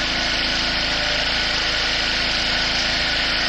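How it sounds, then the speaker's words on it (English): A Honda Elite scooter engine idles fast while its choke is still closed, giving a steady, close, buzzing putter with an even, rapid pulse throughout. "it'll come down on idle once the choke opens up"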